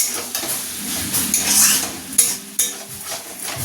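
Poppy seeds fry in a pan under a spoon, making a close crackling sizzle with scraping strokes and a couple of sharp metal clinks against the pan.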